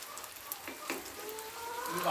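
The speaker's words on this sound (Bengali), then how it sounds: "উল্টে পাল্টে আমি ভেজে তুলে নেব।" Fish kofta frying in oil sizzle in a short, moderate hiss with faint pops and a light clink near the end, alone without talk.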